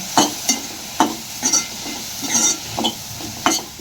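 Two medium tomatoes sautéing with browned onion in a pan for a dhaba-style cashew masala curry: a soft sizzle under a steady rhythm of spoon scrapes and stirs, close and fairly loud, with no voices.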